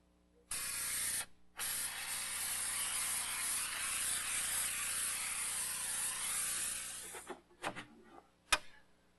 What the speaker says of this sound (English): I'm going to be using our Eastwood grime blaster. This guy just hooks up to your air compressor.